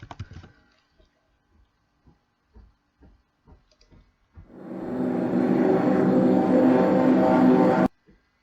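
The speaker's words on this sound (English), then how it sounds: "Alright, that's a great plane sound." A loud, steady roar like a fighter airplane's jet engine starts suddenly, holds at full volume for about three seconds, then cuts off abruptly, preceded by soft clicking; a Roblox game sound effect.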